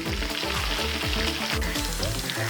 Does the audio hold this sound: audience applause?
no